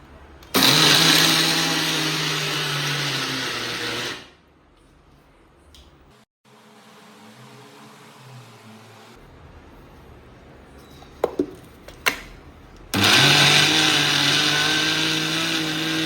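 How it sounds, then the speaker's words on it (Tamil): A mixer grinder blends grated coconut with semolina and sugar for Diwali somas, giving two loud sustained whirring bursts, one near the start and another at the end, separated by a quieter stretch with a few clicks. "மிக்ஸ் பண்ணி அரைச்சிக்கிறேன்."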